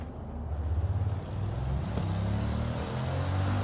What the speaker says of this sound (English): I really like the sound of the car.